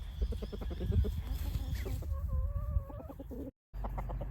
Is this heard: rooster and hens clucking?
yes